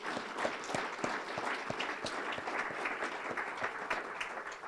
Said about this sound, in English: How about a round of applause for that group, please?